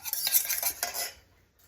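Beaten eggs stirred into an artichoke and spinach pie filling, a close utensil scraping and clinking against a bowl in quick uneven strokes for about a second before trailing off.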